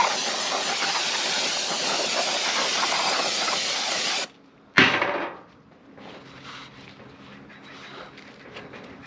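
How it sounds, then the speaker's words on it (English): Aerosol brake cleaner sprayed on brake parts of a 1968 VW Beetle, a loud steady hiss for about four seconds, then a brief sharp burst of spray fading into quieter workshop noise. "clean these up with some old brake clean"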